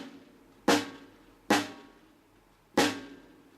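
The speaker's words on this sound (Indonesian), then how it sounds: "Rim shot itu arah jarum jam pukul 1 dan bunyinya seperti ini." Three sharp rim shots on a snare drum, struck with the stick at the one o'clock position, sound alone at an uneven pace, each with a crisp crack and a short ringing tail.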